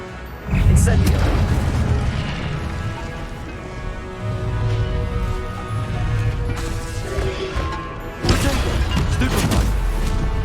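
Fire spell blasts from Hogwarts Legacy gameplay, heavy booming bursts with loud crackling impacts over continuous game music, a big hit near the start and another near the end, with a voice heard over the action.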